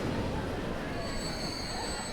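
A freight train in the video game Transport Fever rolls toward a station, a steady close rumble of wheels on rails with a thin, sustained high squeal over it.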